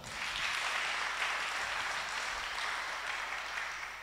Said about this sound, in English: Can you clap for the Lord?